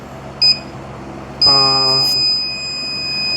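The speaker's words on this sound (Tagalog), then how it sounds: "Beep lang ng beep." A short electronic beep sounds from an appliance showing error code E6 with no output, then a longer, louder buzzing tone follows and fades, with an electrical hum underneath.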